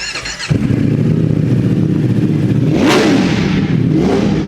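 A Kawasaki Ninja ZX-10R sport motorcycle with a loud SC-Project aftermarket exhaust roars close by, holding a deep steady growl, then blips the throttle for a sharp rev before settling back.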